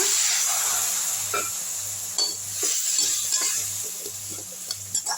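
A continuous hissing sizzle as water is poured into a hot pan of sautéing moringa flowers and drumsticks, with occasional stirring scrapes and soft clatter, close by; no talking.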